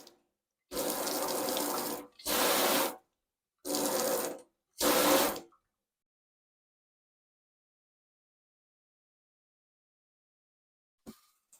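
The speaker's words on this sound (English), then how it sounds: "let's remove the aerator and run water so it pushes any blockage that's inside the lines" A kitchen faucet with its aerator removed runs in four separate close bursts of loud, hissing water, each about a second long, followed by silence.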